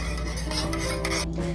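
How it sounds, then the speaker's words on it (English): A spoon stirs milk into a thickening flour and butter sauce for a chicken and rice casserole, producing a steady close scraping and swishing against the pan, with a faint sizzle beneath. "Now we're gonna add another 1/2 cup of milk and stir."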